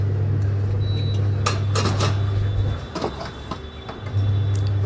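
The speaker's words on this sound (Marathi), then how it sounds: "आणि आता मी कुकर लावते" Pots and pans clatter in a home kitchen as a pressure cooker is set up on the stove, with several sharp metallic knocks and clanks over a steady low hum that drops out briefly midway.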